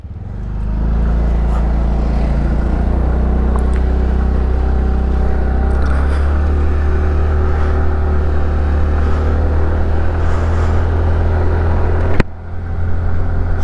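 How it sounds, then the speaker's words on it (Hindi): A 2021 TVS NTORQ 125 scooter engine hums steadily at close range while riding, with a deep, bike-like continuous drone and a brief bump near the end. "एक बाइक जैसा साउंड इसमें आपको मिल जाता है जबकि ये एक स्कूटी है"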